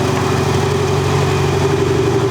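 A Mercedes X-Class pickup idles steadily and close by, its engine holding an even, rumbling hum from start to finish with no other sounds.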